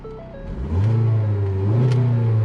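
Ford Focus engine with a failing transmission revs up and holds a steady, loud drone as the car strains to move in drive, with a rising whir and no talk over it.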